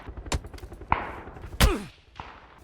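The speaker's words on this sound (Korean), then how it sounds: "저 멀리서 쏜다" Distant gunfire in PUBG: a few sharp, separated shots with echoing tails, sparse and irregular, mostly alone with little else around them.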